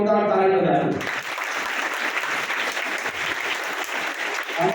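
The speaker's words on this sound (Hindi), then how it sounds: "एक बार अपने लिए जोरदार ताली बजाएं।" Loud, sustained applause from a school seminar audience, dense clapping that starts abruptly after a moment of speech and continues steadily.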